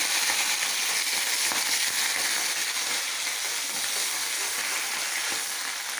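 Potato and bean pieces with nigella seeds fry in hot oil, giving a steady, dense broadband sizzle with faint crackles that stays loud and even throughout, with no voices.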